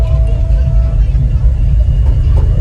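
Deep, loud bass from two Sundown NSV 412 car subwoofers in a port-tuned 40 Hz enclosure, a steady heavy low rumble filling the whole stretch with no pauses.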